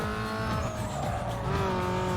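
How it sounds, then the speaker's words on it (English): A race car engine revs in a video game, loud and continuous with a layered droning whine, the pitch sagging and climbing slowly, mixed with tyre squeal. "The revving's slower."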